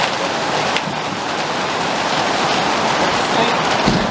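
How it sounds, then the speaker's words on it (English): Sleet falls in the desert during a cold front, a dense, steady hiss of icy pellets striking surfaces that fills the whole stretch evenly and closely, with no voices. "Oh, sleet."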